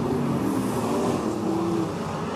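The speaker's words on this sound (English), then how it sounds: "59 car of Michael Code comes around through turn number four and has five laps to go" Super Rods race car lapping Simpson Speedway in the closing laps of the final, its engine a steady loud drone with a sustained tonal whine running through, close and continuous with no talk over it.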